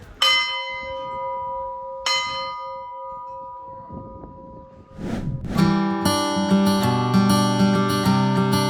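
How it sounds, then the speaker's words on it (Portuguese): A church bell on a farm in Brazil rings out in two separate resonant strikes that decay slowly, then breaks into a fuller, continuous peal of overlapping chimes toward the end. "Tocar o sino, não sei se vocês já sabem, é algo que eu adoro."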